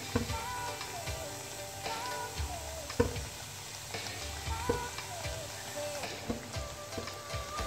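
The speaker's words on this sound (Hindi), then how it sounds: "यहाँ पर मैंने कुछ स्नैक्स जो है वो डाल दिए फ्राई होने के लिए" Tea-time snacks cut into squares frying in hot oil, a steady dense sizzle with scattered pops and crackles, close and continuous throughout.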